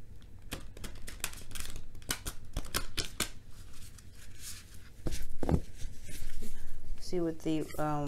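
Large tarot cards being shuffled by hand in a series of sharp flicking riffles and slaps, close by, with a person speaking briefly near the end.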